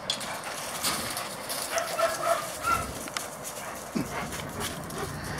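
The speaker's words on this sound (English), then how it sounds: "Quiet, quiet down, puppy." Several pet dogs in a home bark and whimper, with a few sharp barks and soft whines over a faint panting background, fairly close but not loud.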